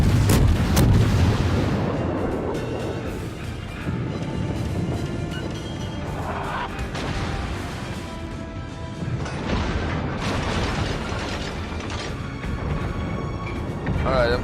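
Naval guns boom and shells crash in a World of Warships battle with a Japanese cruiser, as dense rumbling impacts and sharp bangs under a steady game soundtrack, loud and continuous.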